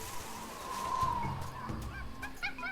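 A monkey cry sounds in the well puzzle of the video game Tales of Monkey Island, a short run of honking, chattering calls near the end over a steady low background.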